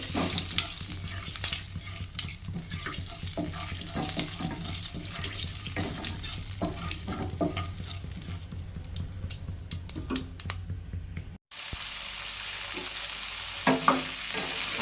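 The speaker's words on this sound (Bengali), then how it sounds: "আলু সিম বেগুন কুমড়ো সব একসঙ্গে দিয়েছি দিয়ে এবারে ভাজা ভাজা করছে এটা" Potatoes, flat beans, eggplant and pumpkin fry together in a pan with steady crackling sizzle and occasional stirring scrapes; there is a brief dropout near the end, then the sizzle resumes.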